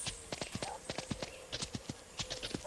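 A horse's hooves in the video game Sound of Horses clip-clop in a quick, steady rhythm at close range, clear and uninterrupted, with faint background game ambience.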